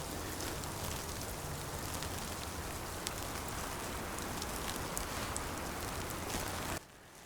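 Sleet hitting trees during a snowstorm, a steady dense hiss of tiny pattering ice pellets, fairly quiet and constant, cutting off abruptly at the very end.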